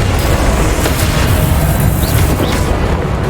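A loud, sustained booming blast from the Confringo explosive spell in Hogwarts Legacy fills the space with heavy low rumble and crackling bursts, close and dense throughout, with no voices over it.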